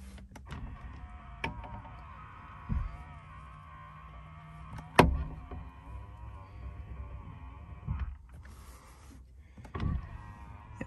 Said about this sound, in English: Power folding mirrors,